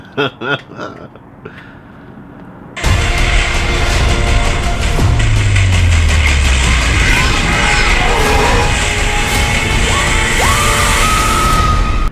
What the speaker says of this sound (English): I'm pretty sure that is a practical effect that's right there screaming in her face